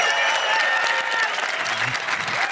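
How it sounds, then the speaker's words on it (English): An arena audience at a startup event gives a sustained round of dense applause, a loud even roar of many hands clapping together with faint voices mixed in. "That was better than the Amazon clap."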